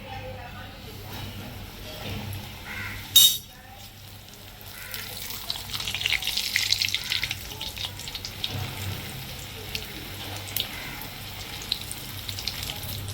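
Bhatura deep-frying in hot oil, a rolled-out puffed Indian bread: a sharp clatter as it drops in, then a steady crackling sizzle that builds and continues, with a voice talking over it.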